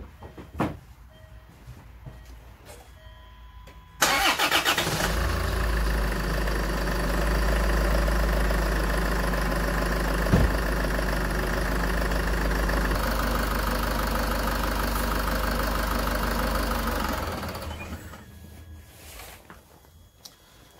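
A Land Rover Freelander engine with a thermostat fault cranks and catches, then idles steadily with a low rumble for about twelve seconds before shutting down into quiet.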